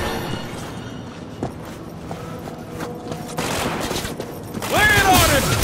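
Gunfire in the video game Cyberpunk 2077: bursts of shots and rapid fusillades over a busy, noisy mix of game sound, growing louder and denser toward the end.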